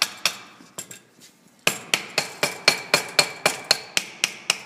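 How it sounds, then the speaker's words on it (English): A metal ring is hammered, first a few scattered taps, then a fast, even series of about a dozen sharp, ringing metallic strikes, close and loud with no talk. "flip it over and hammer it the other way"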